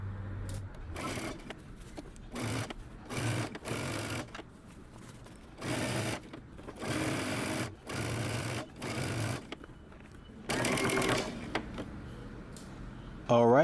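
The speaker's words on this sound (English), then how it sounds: "we're going to stitch, starting from this end all the way to the other end using 5/8 of an inch seam allowance" A sewing machine stitches a shirt sleeve seam at 5/8 inch allowance in a series of short start-stop bursts of needle clatter, close and fairly loud, with quieter gaps between runs.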